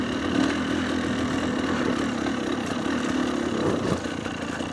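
A GPX TSE 300R motorcycle fitted with an X Gen 3 carburettor idles with a steady, even low throb, close by and unchanging for the whole stretch, with no revving.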